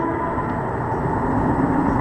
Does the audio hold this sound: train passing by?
yes